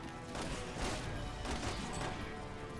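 Shotgun blasts in the Resident Evil 6 game: several loud booming shots about half a second apart, each a broad burst with a short decaying tail over dense background combat noise.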